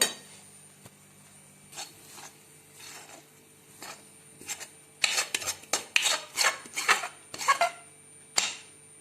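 Hot coconut khoa burfi mixture is scraped from a pan onto a plate: soft rasping scrapes at first, then a dense run of sharp metallic scraping strokes, close and fairly loud.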